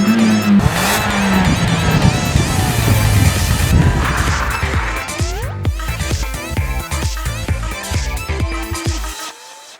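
Peugeot 208 GTi with a turbocharged 1.6 litre petrol engine, driven hard on British roads: loud, close engine roar with rising revs, gear changes and brief tyre squeal, continuous throughout.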